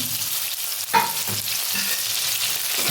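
Onion and green chillies frying in a pan: a steady, close sizzle with a few stirring scrapes over about three seconds, with no talking.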